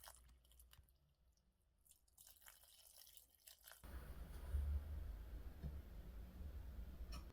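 Raisins are rinsed gently in warm water. Quiet soft dripping and squishing comes first, then a louder, steady wash of sloshing water up close, with no speech.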